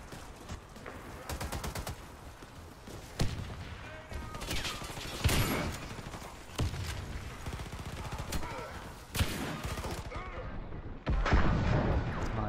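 Gunfire rattles through a multiplayer video game firefight in repeated bursts, with a grenade blast standing out among the sharp reports and a loud burst near the end.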